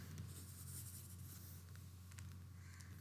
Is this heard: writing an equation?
yes